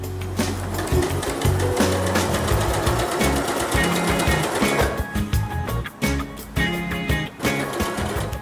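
A Janome Skyline S5 sewing machine runs steadily while stitching in a zipper, a loud continuous mechanical whirr with rapid needle ticking and a few brief pauses near the end.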